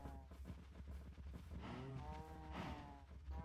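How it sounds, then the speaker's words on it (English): Several cows in the video game Minecraft moo in overlapping, drawn-out calls, fairly close and steady, with a soft shuffling rhythm beneath and no talk. "It's like a whole train of cows."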